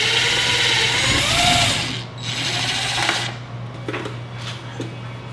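A cordless power screwdriver whirs steadily as it backs out two Phillips head screws holding a chandelier fixture, the motor drone continuous and close before easing off, followed by a few faint clicks.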